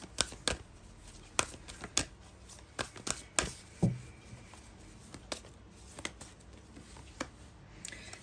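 Oracle cards drawn and flicked from a deck in a quiet room, giving a string of sharp, close papery snaps and slaps at an uneven pace, with short pauses between flurries.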